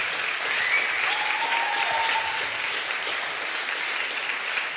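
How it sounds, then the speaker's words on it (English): Steady, sustained applause from a press-conference audience welcoming ESA astronaut Marcus Wandt, many hands clapping evenly at moderate loudness throughout. "yeah, big applause."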